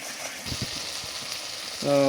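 Spice paste for a desi chicken and potato curry fries in oil, a steady hiss with a few soft stirring scrapes underneath, ending in a brief tonal chime.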